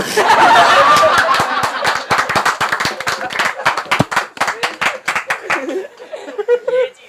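Audience clapping at a live Punjabi comedy jugat contest in Faisalabad, a steady run of sharp claps with laughter and chuckles mixed in, thinning out toward the end as a voice murmurs.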